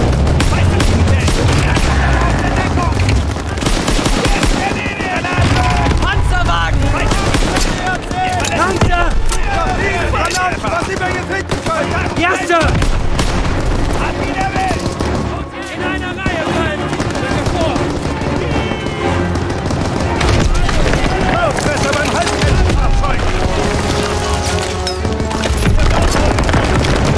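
Dense, sustained gunfire from a World War II first-person shooter, rapid bursts and booming shots rolling on continuously and loud, with shouted voices over the battle throughout.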